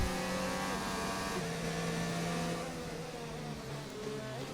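Race cars in a Bahrain Grand Prix video game, a loud sustained engine whine with gear-shift pitch steps, one car close and others layered behind.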